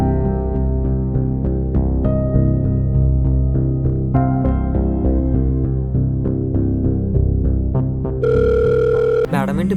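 A phone rings with an incoming call, its tone loud and steady throughout, then a short burst of a different electronic tone near the end.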